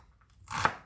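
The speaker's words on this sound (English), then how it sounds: "So that's the onion all chopped." A single crisp knife chop through an onion onto a cutting board, a short close thud with a sharp attack and no speech.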